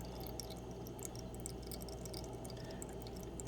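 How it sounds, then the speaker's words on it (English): Liquid drips steadily while edibles are being made, a quiet, continuous run of small wet ticks and drips with no talking over it. "It's like dripping water."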